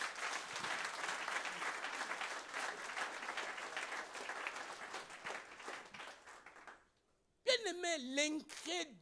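A church congregation at a Sunday worship service applauds loudly and continuously for several seconds, fading out, then a voice speaks over a short stretch of applause at the end.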